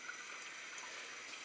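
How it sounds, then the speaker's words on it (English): Tap water pours into a fishbowl during cleaning, a soft, steady hiss of running water, faint and continuous with no voice. "Now we'll just add about"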